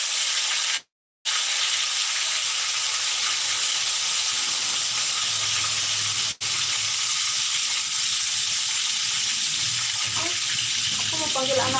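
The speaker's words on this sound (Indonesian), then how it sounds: "Setelah itu aku goreng dulu ikan asinnya" Soaked and washed salted fish fries in hot oil in a pan, giving a loud, steady, close sizzling hiss that runs without a break, with a few faint bubbling pops near the end.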